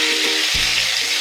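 Pork sizzling steadily in hot oil over high heat, a close, continuous frying hiss with a soft thump as a piece settles in the pan.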